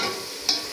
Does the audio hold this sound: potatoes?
yes